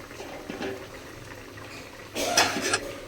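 Prawns simmer in a mustard and poppy seed sauce seasoned with salt and turmeric, giving a faint, steady low bubbling that swells into a louder, closer burst of sputtering near the end.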